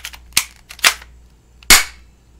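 A small spring airsoft pistol fires three sharp, loud snapping pops at irregular spacing, each with a quick mechanical click, close by and without talk.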